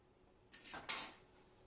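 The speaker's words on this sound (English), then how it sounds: "so I'm going to go ahead and start cutting it now" Knife slicing through fresh okra on a cutting board in a home kitchen: two quick crisp cuts in close succession, close and fairly quiet, with no talking.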